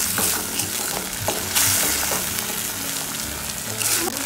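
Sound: stirring spices frying in oil

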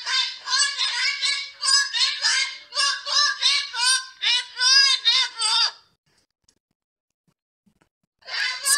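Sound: bird honking, goose-like squawk

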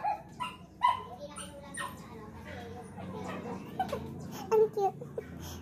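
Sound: neighbours' dogs barking

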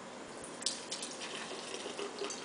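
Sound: soda being poured into a glass

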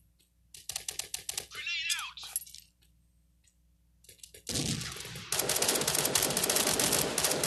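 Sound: gunfire in a multiplayer mobile shooter game

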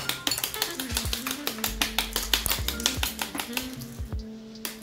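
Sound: knife cutting a block of clear homemade ice

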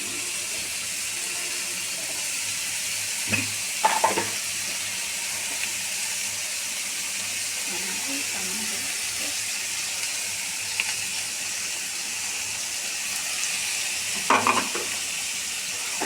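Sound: beef liver with spices sizzling and being stirred in pan

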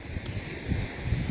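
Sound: wind on the beach

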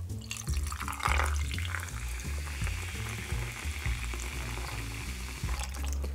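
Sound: Sprite lemon lime soda poured into a cocktail

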